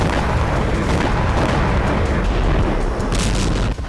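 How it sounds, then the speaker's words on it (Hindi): Loud, dense rumbling noise of a Hezbollah attack blast in Safed, Israel, filling the whole clip, with heavy low-end booms and no voices. "हिजबुल्लाह के विस्फोट के बाद इजराइल के साफेद शहर में आपातकाल लग गया।"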